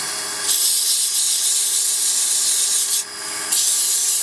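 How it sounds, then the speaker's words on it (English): Steady, hissy rubbing of sandpaper against wood spinning on a lathe while turning a dibber, continuous and close, with a brief drop in intensity before resuming. "Turn your lathe down when you're sanding"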